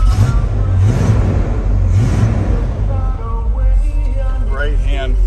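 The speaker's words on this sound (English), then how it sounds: "We're going to start up our 77 K10." A 1977 Chevrolet K10 truck's engine running with a deep, steady low rumble up close, while someone talks over it and a radio plays faintly in the background.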